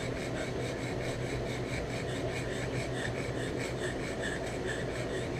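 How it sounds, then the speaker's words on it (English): Hand filing with small precision files to widen a slot in a survival knife under restoration, a steady repetitive rasping stroke that runs throughout, close and fairly loud with no talking. "I'm gonna keep filing until I get that slot that'll fit that."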